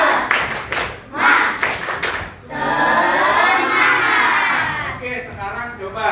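Schoolchildren in an Indonesian classroom do the 'tepuk semangat' clapping chant, several sharp group claps in rhythm followed by a sustained shouted chant from the class, loud and close, with the claps and voices overlapping.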